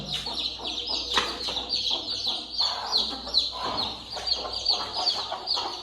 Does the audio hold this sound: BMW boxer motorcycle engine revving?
no